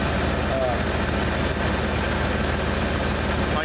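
A truck with a 302 V8 engine runs steadily, a loud, continuous low rumble with an even, unbroken drone and no changes in revs.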